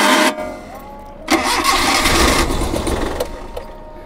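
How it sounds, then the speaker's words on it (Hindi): A Suzuki car engine cranks repeatedly without catching, a loud, close, grinding starter churn in two long bursts separated by a brief pause. "ये देखें, ये स्टार्ट नहीं हो रही।"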